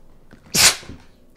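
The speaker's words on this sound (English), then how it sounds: "And I sneezed." A single sharp, loud human sneeze bursts out close to the microphone, brief and alone against quiet background.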